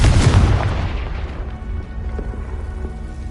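A Confringo blasting spell hits in Hogwarts Legacy, a loud booming burst that rolls away into a crackling, rain-like patter and fades over a few seconds.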